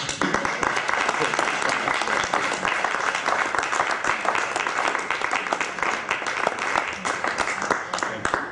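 Audience applause at a same-sex marriage equality gathering fills the room as a sustained, even roar of many hands clapping, loud and unbroken, with voices faintly mixed in.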